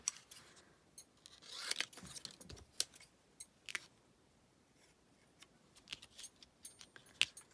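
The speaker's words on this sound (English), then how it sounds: "Just going to cut a piece across there." Scissors snip through a piece of card or paper for a gilded mosaic card, giving a few faint, close, crisp cuts spread out with quiet gaps between them and no voices.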